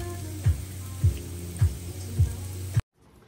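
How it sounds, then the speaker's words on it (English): Hamburgers frying in a pan, a steady close sizzle broken by five evenly spaced low thumps before the sound cuts off abruptly. "So we're going to get these burgers going."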